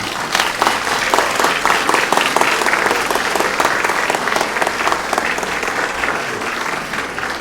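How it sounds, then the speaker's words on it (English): Dinner guests at a campaign celebration give the volunteers a hearty round of applause, loud, dense clapping from many people, steady throughout and tapering slightly toward the end. "So please give our volunteers another round of applause."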